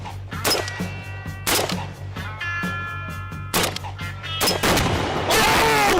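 Gunshots from someone shooting a gun, a series of sharp, loud cracks at irregular intervals over a steady low hum, with no talking.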